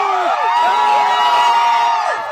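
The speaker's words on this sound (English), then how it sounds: "crowds of supporters gathered outside the courtroom and cheered when they heard that the terrorism charges were dropped" A crowd of supporters cheering outside a courtroom, with loud overlapping whoops and shouts rising and falling together, close and continuous.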